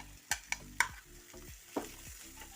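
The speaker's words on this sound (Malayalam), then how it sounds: "വെളിച്ചെണ്ണ ഒഴിച്ചു കൊടുത്ത് ഇഞ്ചി അതിലേക്ക് ഇട്ട് കൊടുക്കാം. എന്നിട്ടിതിനെ വരട്ടി കൊടുക്കാം." Ginger and small shallots sautéing in coconut oil over a medium flame, with a steady low sizzle punctuated by several sharp spoon scrapes and stirring knocks against the pan, close and without talk.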